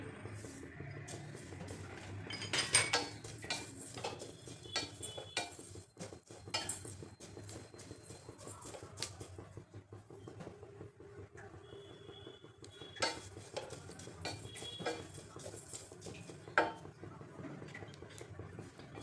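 Sesame seeds being stirred in a pan for traditional tambul: a soft, steady scraping and light clinking of a spoon against metal, close but quiet, with occasional sharper taps.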